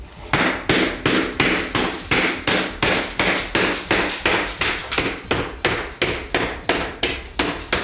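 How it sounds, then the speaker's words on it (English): A hammer smashing a hole through ceramic bathroom wall tile, landing about two dozen steady, evenly spaced sharp blows up close, each impact crisp and loud with a brief ringing clatter. "we're gonna smash a hole in the tile right through the wall"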